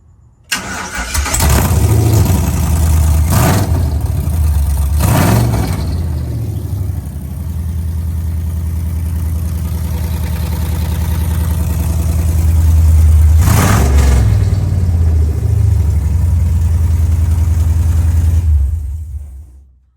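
A 1972 Chevy Nova V8 through an open exhaust pipe, loud and close, with several sharp throttle blips rising over a deep rumbling idle before cutting off at the end.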